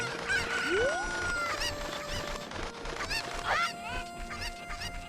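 A cucco in Zelda: Ocarina of Time squawks and clucks in several sharp, close honking calls over a busy game background.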